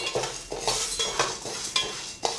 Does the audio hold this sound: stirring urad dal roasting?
yes